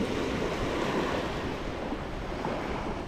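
Ocean surf breaks steadily on a beach during a pompano fishing session, a dense continuous wash with wind rumble, loud and close throughout.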